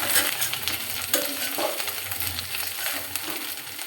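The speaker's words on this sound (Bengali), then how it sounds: "মাছগুলো সুন্দর করে ভেজে নিতে হবে।" Dried chepa fish (shutki) fries with spices in a pan, giving a close, steady sizzle with scraping stir strokes and occasional clinks, no voices.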